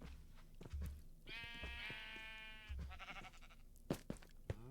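Sheep bleat in a Minecraft livestock paddock, a long wavering harmonic bleat in the middle of the clip, with low clicks and game thumps around it and no talking.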